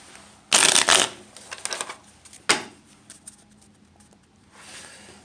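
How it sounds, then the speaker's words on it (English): A tarot card deck is shuffled up close, with quick riffling bursts followed by a single sharp shuffle and then softer card handling, all without talk. "we're going to shuffle real quick and then cut"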